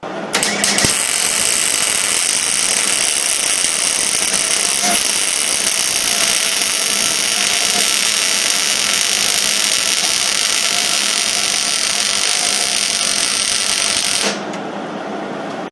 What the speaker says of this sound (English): We're going to do a vertical weld.